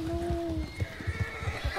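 A horse in Red Dead Redemption 2 whinnies briefly, followed by a steady clip-clop of hooves, fairly quiet.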